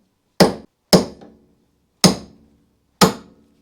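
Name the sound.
tapping a wheel stud out of the hub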